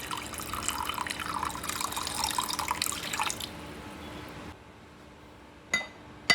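Ofada rice being washed in water, with sloshing and trickling for a few seconds, then a quieter pause and a couple of faint clinks and drips close by.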